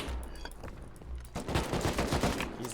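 Rapid bursts of gunfire from the video game Rust, starting sparse and then turning into a loud, dense stream of close shots.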